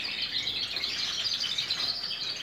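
Birds chirp and tweet continuously in a rapid, busy chorus at moderate distance, bright and steady throughout, with no talking.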